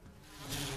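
Buzzing bees around a giant beehive in Resident Evil 1 Remake, a short insect drone that swells louder halfway through.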